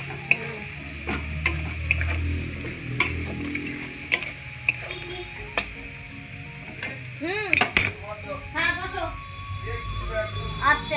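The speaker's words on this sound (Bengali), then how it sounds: "এখন দিয়ে দিচ্ছি একটু হলুদের গুঁড়ো, দিয়ে আবারও ভালোভাবে নেড়ে চেড়ে নিচ্ছি।" A spring onion and potato dish with turmeric being stirred in a pan, a soft sizzle with frequent sharp utensil clicks against the metal, and someone talking over it.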